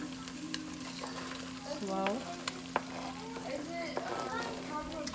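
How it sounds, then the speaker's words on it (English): Chopped onion and celery tipped into a pot of browned meat, frying with a steady crackling sizzle up close while a stirring spoon scrapes, and a voice talks over it partway through. "you go ahead and put your onion and your celery in"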